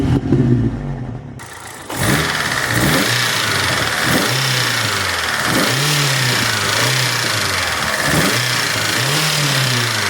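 2008 Opel Corsa C utility with a 1.8L engine, fired up and then revved repeatedly, each rev rising and falling in a regular series of throttle blips, close and loud with no talking.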